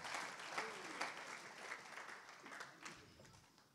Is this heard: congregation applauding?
yes